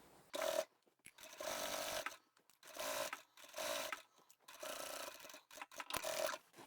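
A domestic sewing machine stitches the top flap of a reversible lined shopping tote in a string of short, fairly quiet bursts separated by brief pauses, with no voices.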